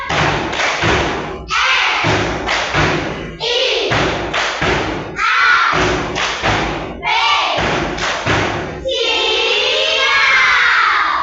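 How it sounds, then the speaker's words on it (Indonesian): A class of children claps the 'tepuk siap' chant in unison, loud rhythmic bursts of claps separated by short pauses, with young voices shouting along and a final cheering shout at the end. "coba tepuk siap yang paling semangat. Tepuk siap."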